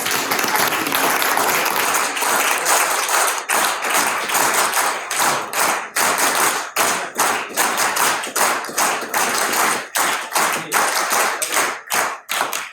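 NSS college students at a camp inauguration clap in unison, first a dense burst and then a patterned rhythmic sequence of sharp group claps with short pauses, loud and close.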